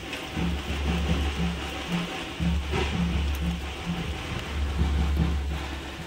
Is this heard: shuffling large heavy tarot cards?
no